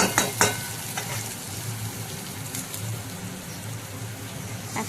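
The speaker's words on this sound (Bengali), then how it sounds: "এখন দেখো আলু আর পেঁয়াজ ভালোভাবে নেড়ে নিচ্ছি।" Potatoes and onions frying in a pan, stirred with a utensil: a few sharp scraping clatters at the start, then a steady close sizzle with occasional stirring knocks and no voices.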